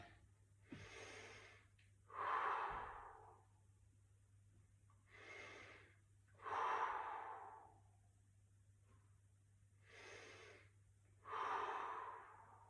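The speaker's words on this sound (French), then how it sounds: "On souffle bien, on reste 3 respirations." Slow, heavy breathing while holding a leg stretch during a cardio workout: three deep inhale-exhale cycles, each a loud, breathy rush of air with a pause between, close to the microphone and with no talking.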